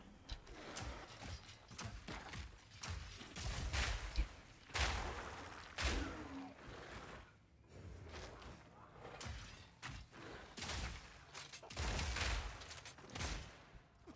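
Frag rounds fire in Path of Exile 2 as a series of sharp, irregular bursts and thuds with crackling debris, moderately loud and spaced unevenly across the stretch.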